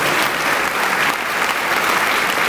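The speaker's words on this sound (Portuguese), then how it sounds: "Aplaudam o Senhor por isso." Church congregation applauding during a pastor's sermon, a loud, sustained burst of dense clapping from many hands that fills the room without pause.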